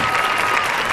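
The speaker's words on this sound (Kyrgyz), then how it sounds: "Бир кол чаап коюңуздар, кыздарыбызга жолуңуздар." A studio audience at a Kyrgyz TV show gives steady, dense applause, a continuous wash of many hands clapping throughout with no pauses.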